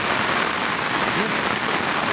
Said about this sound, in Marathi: एक नंबर पाऊस लागलाय तुफान पाऊस लागलाय